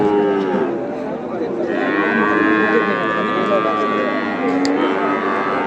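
Cattle lowing at a crowded winter cattle market in Kalampur, Bangladesh, several long moos rising and overlapping against a steady murmur of people and market bustle.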